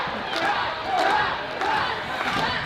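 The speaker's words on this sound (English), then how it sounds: "The crowd wants him to tap." A crowd at a cage fighting event roars and shouts in a dense, sustained wall of voices, with swells of louder yelling rising above the steady din.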